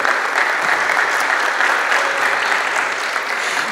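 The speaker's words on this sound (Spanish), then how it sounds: "un aplauso, claro que sí." Audience applause for a speaker at a women's political challenges panel, a dense, even roar of many hands clapping that holds steady and fairly loud throughout, with no talking over it.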